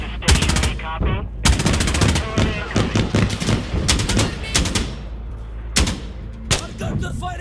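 Heavy gunfire in Insurgency Sandstorm: rapid automatic bursts and single loud shots in close, repeated volleys with deep booming thuds beneath, nearly continuous across the clip, with faint shouting voices mixed in.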